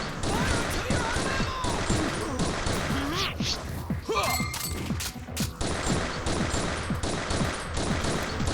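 Heavy gunfire in the video game Final Fantasy Type-0: dense bursts of shots and crashing impacts pound continuously and loudly, with shouting voices mixed into the battle.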